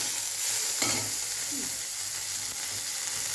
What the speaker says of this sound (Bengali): আমি এই যে চিংড়ি মাছটা ছেড়ে দিলাম। তেলটা প্রচুর গরম হয়ে গেছে